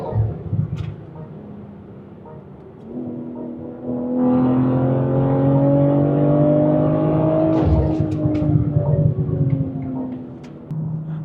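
A tuned Stage 2 BMW M340i LCI engine revs up hard, holding a loud, rising whine for several seconds before dropping off, close and with no talk over it.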